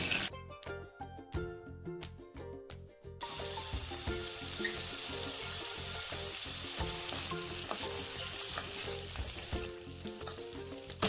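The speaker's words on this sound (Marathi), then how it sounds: "आता यामध्ये आपण बटाटे थोडेसे शालो फ्राय करून घेणार आहोत" Potatoes shallow fry in homemade ghee in a pan, a loud close sizzle that starts with a few stirring clatters and then holds steady and crackling, with no talking.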